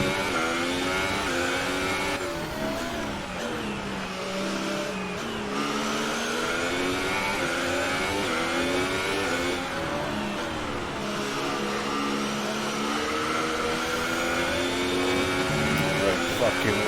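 Racing car engine from the F1 2018 video game at the Hungaroring, a loud continuous whine with rising and falling gear-shift pitch sweeps throughout, steady and close, with commentary-style talk layered over it.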